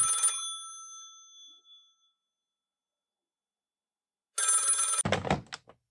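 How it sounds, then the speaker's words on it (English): A telephone bell rings in two separate bursts, a short one at the start and another several seconds later, each clear and close, with a thump right after the second ring and no talking. "As soon as she sat down, the phone rang."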